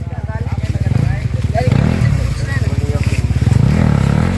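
A KTM enduro motorcycle engine at a hard enduro race putters loudly and close with a fast, rough pulsing rhythm, revving slightly and holding steady throughout.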